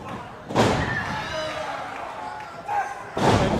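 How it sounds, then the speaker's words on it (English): Two heavy thuds of a wrestler slamming an opponent to the mat with an acid bomb at a wrestling event, one in the middle and a louder one near the end, heard under loud crowd noise and commentary. "Taking a page from the late Trent Acid with that acid bomb."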